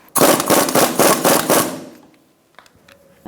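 On a 2004-2009 Mazda 3, a power tool snugs a front strut bolt with a rapid series of loud, close hammering bursts lasting under two seconds, then falls quiet.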